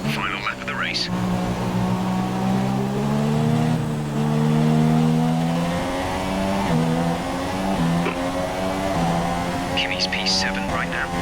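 Formula One car engine in the racing game F1 2017 at the Canadian Grand Prix in wet conditions, a steady high-pitched whine that rises and drops through gear changes, loud and continuous, with a faint race engineer voice over it.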